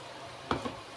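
Ground spinach paste tipped into a pan of sizzling masala for palak paneer, a brief wet splat and sudden hissing surge over a faint background sizzle, followed by a softer second plop.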